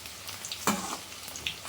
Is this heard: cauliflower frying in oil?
yes